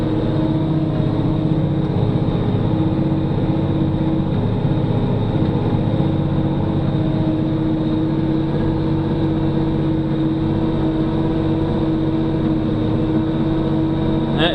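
New Holland T9.390 tractor pulling a Landoll 6230 through thick sweet yellow clover, a loud, steady diesel drone with constant low rumble and a sustained mechanical hum, unbroken for the whole stretch with no voices.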